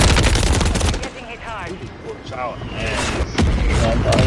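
Gunfire in a first-person shooter video game, rapid bursts of shots at the start and end with sound effects in between, while a player talks excitedly over the action.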